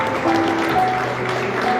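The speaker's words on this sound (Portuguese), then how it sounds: "E 1 milhão de aplausos para o David aqui" Applause from a group for a player named David on a show, steady dense clapping that runs evenly through the whole stretch, with some background voices underneath.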